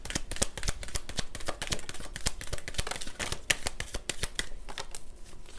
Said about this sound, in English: I feel one more shuffle might yield another card.